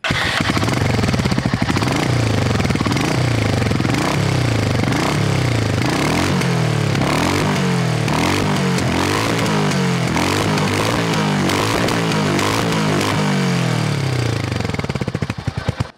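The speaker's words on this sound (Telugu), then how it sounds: "ఈ బైక్ ఎగ్జాస్ట్ సౌండ్ ఎలా ఉందో ఇప్పుడు వినండి" A 2025 Royal Enfield Hunter 350 motorcycle engine rumbles loudly and continuously up close, its exhaust thumping in a rough, pulsing rhythm with repeated rises in revs.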